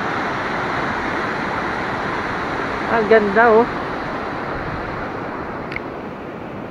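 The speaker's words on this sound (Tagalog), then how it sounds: "Ang lakas ng alon." Strong ocean waves crash on the coast of Aurora Province, a loud, unbroken roar mixed with wind buffeting the microphone, while a voice speaks briefly partway through.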